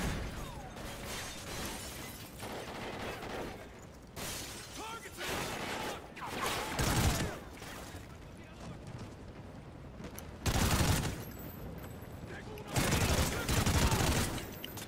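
Gunfire in Call of Duty Ghosts during the Birds of Prey mission: several loud, close bursts of rapid shots and shattering impacts, separated by quieter stretches of battle noise.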